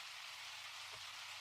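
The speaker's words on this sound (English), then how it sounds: "I guess it's supposed to be rain behind us, but we've discovered that it just sounds like nonsense." Steady rain background ambience, a soft even hiss of drops falling on a surface, faint and continuous with a brief low thump near the middle.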